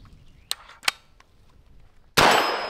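An air rifle firing at a metal target: two sharp metallic clangs early on, a short pause, then a loud crack of a shot that rings out at the end.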